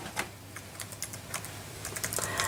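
Close, quiet typing on a computer keyboard, a quick series of light key clicks in an uneven rhythm over low background hum.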